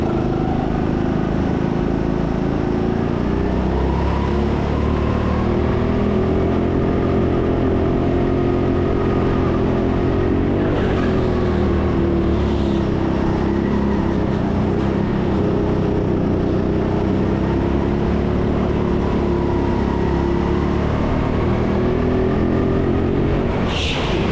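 Go-kart engines at TeamSport Karting Sheffield during a Grid Series sprint race, a steady loud close buzz that rises and falls with acceleration throughout, one kart's motor dominating with others around it.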